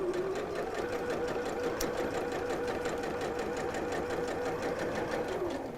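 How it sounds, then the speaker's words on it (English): A sewing machine back stitching fabric runs steadily and close by, its needle chattering in a fast, even rhythm throughout with no pause. "I'm just back stitching just to secure the end of that and around to the point"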